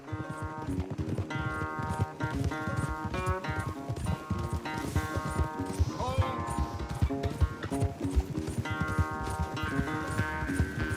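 A horse gallops hard during a race in Red Dead Redemption 2, its rapid hoofbeats drumming close and loud beneath a running game music score.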